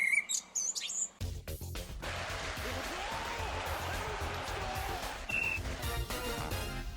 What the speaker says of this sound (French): celui d'entendre assez de bruit d'oiseaux dans sa cage